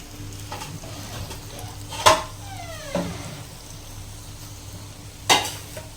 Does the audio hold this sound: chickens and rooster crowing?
no